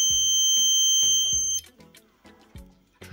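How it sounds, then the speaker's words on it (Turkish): Repeated piercing electronic beeps from the buzzer of a PIR motion sensor security alarm circuit, sounding in a regular on-off rhythm, loud and close, with no voices. "Tekrardan herhangi bir hareket algıladığında alarm olarak yani buzzer sesli komuta geçecektir."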